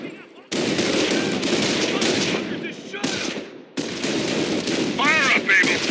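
Machine-gun bursts and rifle fire rattle almost nonstop in the World War II strategy game Company of Heroes: Tales of Valor, with radio-style voices and battle noise mixed in.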